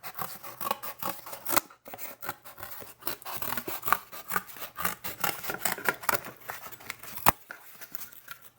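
Scissors cut a long strip of material for mounting an LED matrix kit. The blades snip and rasp close up in a quick, uneven series of crisp cuts with short gaps between them, and there is no talk.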